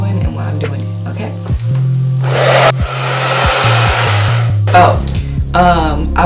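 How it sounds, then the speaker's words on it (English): A blow dryer runs on natural hair in a loud, steady whoosh for about two seconds, then cuts off briefly and restarts, with clattering handling noises and a short stretch of speech between the bursts. "I just know I'm not going to be able to explain that with the blow dryer on"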